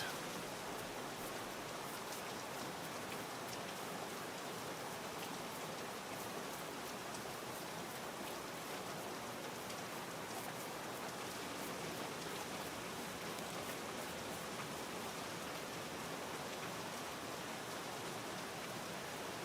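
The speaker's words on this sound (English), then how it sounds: "Oh, the rain is really loud." Steady, dense rain pours without letup in the deer-hunting video game Virtual Hunter, a loud, even hiss that fills the whole stretch with no talking.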